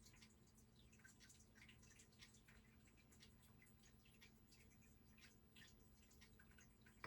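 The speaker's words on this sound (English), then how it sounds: "That you hear, that dripping sensation, that is directly behind me." Soft, steady dripping and trickling water from a fish tank filter patters in the background, quiet and continuous with a faint low hum underneath.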